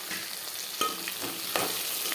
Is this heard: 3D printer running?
no